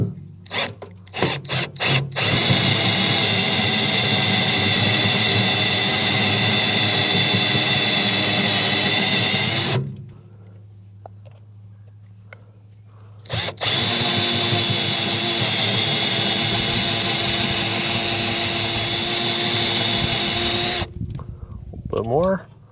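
Power drill boring a pilot hole during restoration of a Knight Rider semi truck's belly boxes, whining loudly and close in two long sustained bursts after a few short stutters, with a quiet pause between them.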